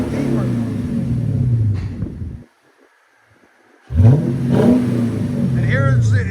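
A Lexus IS F 5.0L, BMW M5 4.4L or Chevy SS 6.2L engine rumbles and revs, rising in pitch before a cutout of near silence, then roaring back; voices talk over the engine.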